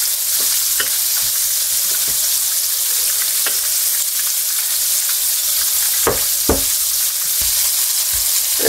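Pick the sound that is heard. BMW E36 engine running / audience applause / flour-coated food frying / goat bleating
flour-coated food frying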